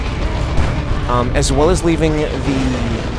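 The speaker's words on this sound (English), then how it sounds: "use an orbital bombardment" An orbital bombardment artillery strike in the Dawn of War II: Retribution strategy game, heard as a loud rumbling barrage of booms and blasts under a fast-talking commentator's voice.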